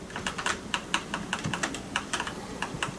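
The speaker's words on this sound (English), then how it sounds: "the blue switch keyboard is good for typing" Rapid, crisp clicking keystrokes in an uneven typing rhythm, close and steady over faint background hiss, the bright clacks of a blue-switch mechanical keyboard.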